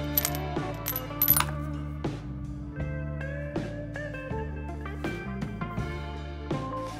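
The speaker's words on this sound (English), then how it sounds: "due to uranium's density, it also makes a clicking ring noise when it strikes glass" Small pieces of dense uranium metal strike glass, giving several sharp, close clicks, each followed by a clear, tinkling ring that fades between hits in a quiet setting.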